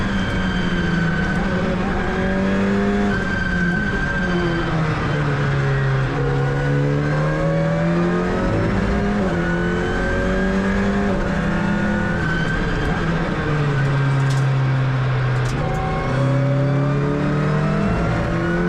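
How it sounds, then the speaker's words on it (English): An Alpine A110 Cup race car circles the Nogaro circuit, heard from onboard as a loud, continuous engine drone that rises and falls in pitch through repeated gear changes and revving. "how it is to actually be driving the Alpine A110 at the Nogaro ring"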